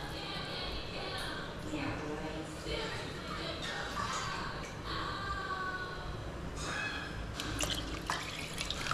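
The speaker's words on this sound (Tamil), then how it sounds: "4 கப் தண்ணி விட போகிறேன் இதால்." Water splashes and runs into a pot in several pours while making chicken dum biryani on a gas cooker, with a voice talking over it and a few clinks.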